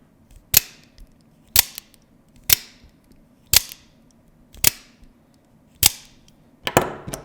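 A genuine Microtech Ultratech out-the-front knife fires its blade six times in a row, each a sharp, close metallic snap about a second apart, with a last double click at the end and quiet between.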